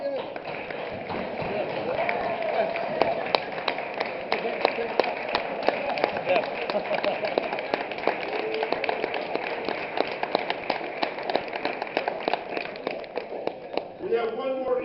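A crowd at a congressional candidates forum keeps up a long round of applause, dense continuous clapping with a roomy sound, while people talk over it.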